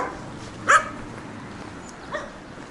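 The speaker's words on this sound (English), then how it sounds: "These angry dogs." Angry dogs heard on a walk through the streets of Veliko Tarnovo, Bulgaria, give two short, distant barks about a second and a half apart over quiet outdoor background noise.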